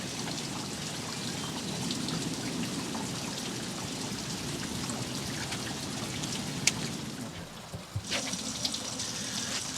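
Camper black water tank draining out through a hose after a flush, a steady rushing, splashing water flow with a few small knocks and gurgles near the end.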